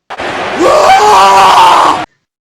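A loud, sustained scream, shrill and rising, bursting in after a brief catch and holding at full strength for about a second and a half before cutting off abruptly.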